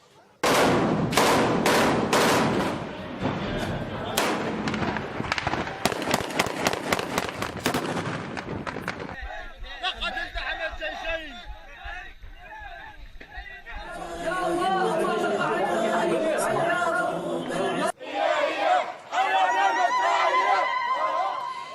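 Locals celebrating in Aleppo fire automatic rifles into the air: rapid bursts and scattered shots crack loudly at first, then give way to dense crowd chatter, shouting and further distant gunfire, with a voice speaking over part of it.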